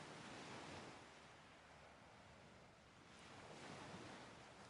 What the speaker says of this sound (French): écoutons les sons de l'océan.